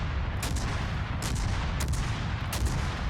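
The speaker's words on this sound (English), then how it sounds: "That's a beautiful shot right there" Naval guns firing in a World of Warships battle, several heavy booming salvos spaced about a second apart over a constant low rumble, loud and close with no talking.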